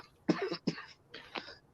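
Three harsh coughs, two quick bursts and then a longer rougher one after a short pause, close to the mic.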